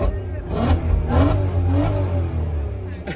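A VW Golf Mk5 R32 revs while driving, heard from inside the car. The engine note climbs in a couple of surges over a low, steady drone, with voices mixed in.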